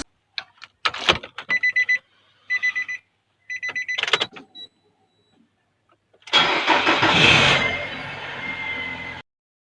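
A car that will not start, its starter giving only brief ticking clicks: short bursts of clicking with pauses, then a louder, longer rough mechanical noise near the end, close by with no talk.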